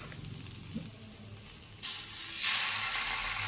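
Buttermilk dosa batter (challa atlu) hits a hot griddle and breaks into a loud, bright sizzle after a quiet start. The hissing swells further a moment later and holds steady and close.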